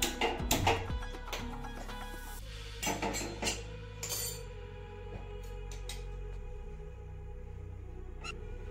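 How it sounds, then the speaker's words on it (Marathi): A kadhai set down on a gas stove in a home kitchen, with a few clanks and metallic clinks close by, then a low steady hum of the burner as the clatter fades, quiet and without talk. "गॅसवरती कढई ठेवूया"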